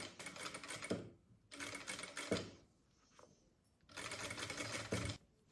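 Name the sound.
sewing machine stitching a shirt seam from shoulder to shoulder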